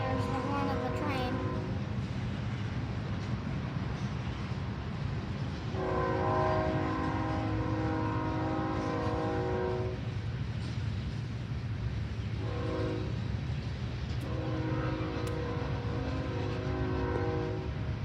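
A train at Mad River sounds its horn in several long, loud multi-tone blasts, with a shorter blast in between, over the steady rumble of the passing train while people talk nearby.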